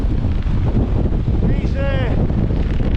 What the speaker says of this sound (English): These winds have got up now.